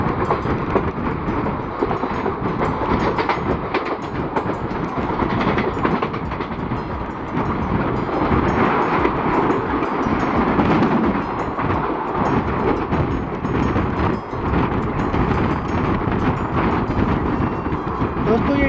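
An empty passenger train rake passes close by on the railway, a steady loud rumble with rhythmic wheel clatter running throughout, heard from aboard an intercity express while a voice talks over it.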